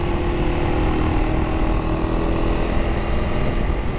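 Husqvarna Svartpilen 401 single-cylinder 400 motorcycle engine running steadily under load, a loud continuous drone with a constant low rumble and no pauses, no talking.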